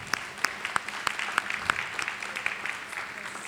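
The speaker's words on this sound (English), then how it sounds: "a big round of applause for Simon" Audience members at a glass art demonstration give a round of applause, a moderately quiet, scattered patter of individual claps with a few sharper, distinct hand strikes standing out.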